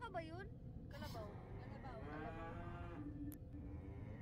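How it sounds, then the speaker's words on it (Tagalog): A water buffalo (carabao) on a farm lets out several drawn-out moos, close and clear, mixed with people chatting and background traffic. "Ah, ang daming baka. Baka ba yun? Kalabaw."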